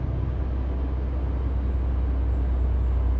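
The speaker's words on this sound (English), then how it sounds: "you hear the engine I'm driving?" A truck engine drones steadily while driving in Euro Truck Simulator 2, a continuous low rumble with a faint high whine above it, even and unbroken throughout, with no talking.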